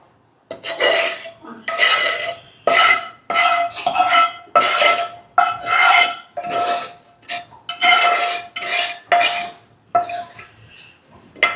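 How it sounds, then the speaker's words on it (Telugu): Grated raw mango pickle being stirred and mixed with salt and chili powder in oil, giving a steady run of scraping, clinking strokes of a spoon against a metal bowl, close and fairly loud with no talking. "మనం పచ్చడి మొత్తం ఈవెన్గా అంతా కలిసేలాగా ఉప్పు కారం కలిపేసుకోవాలి"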